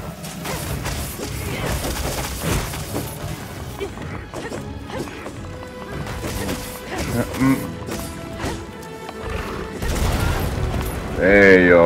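A bomb set by a player goes off in a Monster Hunter Wilds battle, bursting among crashes, heavy thuds and clattering impacts of hunting combat, with people talking throughout.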